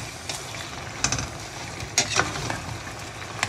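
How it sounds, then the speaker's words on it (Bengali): Chicken frying in a pan with ginger garlic paste gives a steady close sizzle, broken by a few sharper scraping stirs and clinks, with no talk. "এবার এটাকে ভালোভাবে আদা রসুনের সাথে আরেকটু ভেজে ভেজে নিব আর কি"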